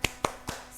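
A classroom group does a rhythmic spirit clap, three sharp, quick claps in even succession, close and fairly quiet.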